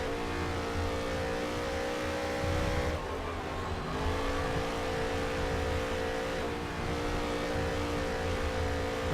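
Race cars roaring in NASCAR Heat 3 during a career-mode race, a steady dense engine drone with layered revving tones from traffic ahead, continuous and fairly loud with brief pitch dips as cars shift and pass.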